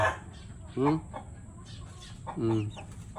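Backyard chickens cluck in two short bursts nearby, with soft background noise between them.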